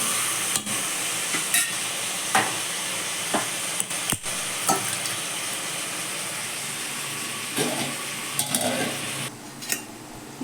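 Chicken going into hot oil with softened onion and tomato for a gravy, sizzling and frying steadily with intermittent stirring clatter, fairly close, no talk.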